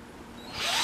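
A toy or small drill whirs up near the end as a baby plays with it, a brief rising buzz close by with no talk.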